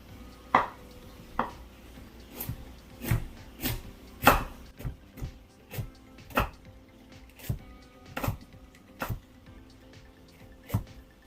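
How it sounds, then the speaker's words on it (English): Carrots being chopped with a knife on a board, a series of about fifteen distinct close knife strikes at an uneven, unhurried pace over quiet room tone, nobody talking. "Then I'm gonna cut up my carrots."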